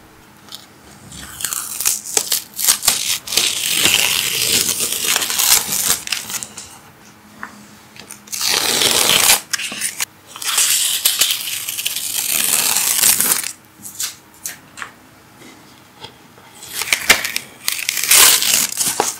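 Watercolor painting tape being peeled away from paper in long crackly tearing strips, separated by brief pauses, close and alone with no voices.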